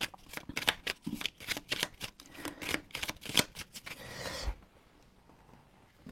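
Small horoscope cards are shuffled close by in a rapid flurry of papery riffles and slaps that lasts several seconds. A short settling rustle follows, then quiet.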